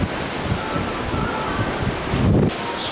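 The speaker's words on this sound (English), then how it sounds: "It's so windy here right now," Strong wind buffets the microphone outdoors near a hotel in a village with rivers and waterfalls, a loud continuous roar with rustling and a brief surge near the end.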